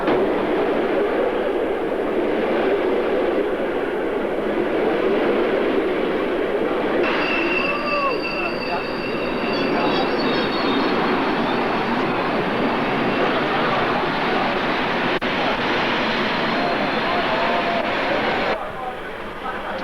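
A passenger train carrying a 1992 refugee convoy from Bosanski Novi on the Karlovac to Hanau route rumbles steadily along the rails, with a loud continuous roar and wheel noise, while a voice speaks over it.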